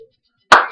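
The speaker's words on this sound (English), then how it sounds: "Do you think that was a mocking clap?" A single sharp hand clap rings out in a quiet classroom, loud and close, with a short tail after the strike.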